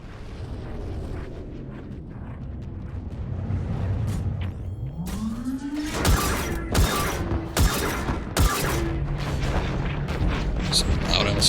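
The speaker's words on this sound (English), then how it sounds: "Some loud-ass cannons." Loud cannons fire in the video game Mass Effect 3, several sharp heavy booms in irregular succession after a rising mechanical whine, over a rumbling battle background with some talk.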